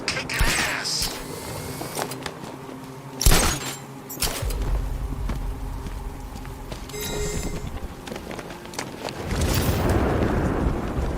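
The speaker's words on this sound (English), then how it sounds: "the Bat's got a cannon on his car" Batmobile cannon blasts from the Batman: Arkham Knight video game: several heavy booming explosions burst over a rumbling, clanking mechanical background, with a loud blast early on and another near the end.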